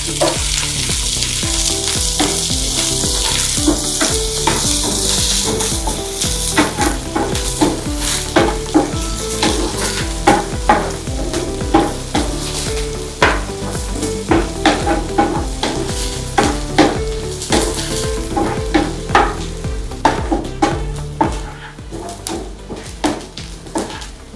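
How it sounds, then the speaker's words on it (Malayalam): Chopped onions sauté in a pan for a Ramadan home-cooking dish, a steady loud sizzle running throughout with repeated scrapes and taps of a spoon stirring against the pan, growing more rhythmic toward the end. "ചെറുതാക്കി കട്ട് ചെയ്ത് സവാള ഇതിലിട്ടിട്ട് വഴറ്റാം"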